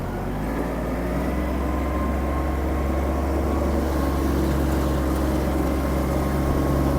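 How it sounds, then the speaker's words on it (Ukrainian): A Kubota GL-29 compact tractor engine runs steadily with a low, constant drone and faint rattle as it drives and turns, close by, with no talking over it. "Плавно пускаю, трактор поїхав. Викручуємо кермо."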